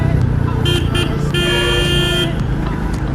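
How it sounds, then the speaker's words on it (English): Loud horn blasts from a Royal Enfield Meteor 350 motorcycle riding in city traffic, a short toot followed by a longer sustained honk over steady engine and road noise. "The horn sounds quite impressive also, as it is loud enough."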